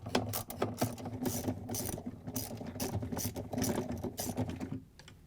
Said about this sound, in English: We're going to reach in with a 7/16 socket with a long extension and take it out.